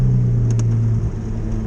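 A supercharged Vauxhall VX220 pulls hard after a downshift, a loud droning engine note held for about a second and then easing into a lower rumble, with no talking.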